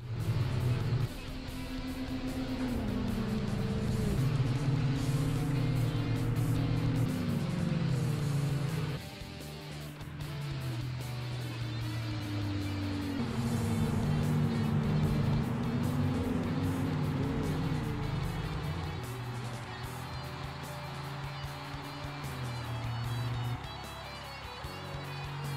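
Racing cars from the 2002 Capcom driving game Auto Modellista, with continuous engine drone that rises and falls through gear changes and revs, loud and steady across the whole stretch.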